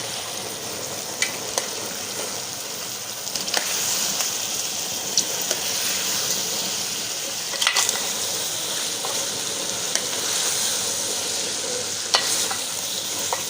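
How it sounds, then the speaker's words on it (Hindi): Potatoes and peas fry in a pan and are stirred, a constant bright sizzle running throughout, punctuated by scattered sharp clicks and scrapes of the spoon, close and fairly loud, without speech. "आलूओं को भी अच्छी तरह से भून लेंगे।"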